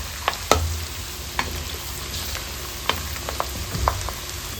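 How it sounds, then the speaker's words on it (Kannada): Ginger and garlic frying in hot oil for a chicken pickle, a soft steady sizzle broken by sharp clicks and clinks of stirring, fairly quiet and close. "ಬೆಳ್ಳುಳ್ಳಿ ಕೂಡ ಚೆನ್ನಾಗಿ ಫ್ರೈ ಆಗಬೇಕು ಎಣ್ಣೆಯಲ್ಲಿ"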